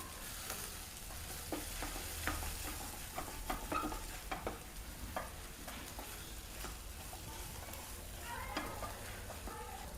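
Onion, green chili and red chili powder sauté in a pan, a steady soft sizzle with occasional scraping stirs throughout, fairly quiet and without talk.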